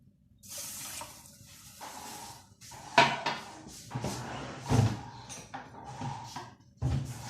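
Water poured into sugar in a pan to make syrup for shakarpara, with splashing bursts, a few louder clatters of kitchenware, and moderate level throughout.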